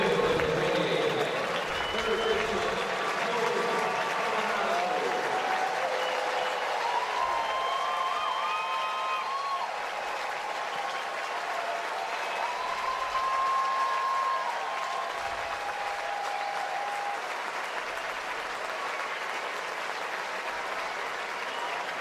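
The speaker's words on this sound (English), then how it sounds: "He'll get another big cheer here at Busch" Busch Stadium crowd cheering and applauding as Nolan Arenado steps up for Arizona against the St. Louis Cardinals: a broad, sustained wash of clapping and cheers holds for the whole stretch, with occasional voices rising above it.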